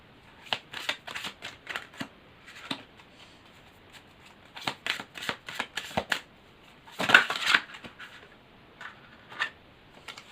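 Tarot cards are shuffled and drawn by hand, giving close, crisp riffling and flicking bursts in uneven clusters, with one longer, denser shuffle partway through and lighter single card snaps around it.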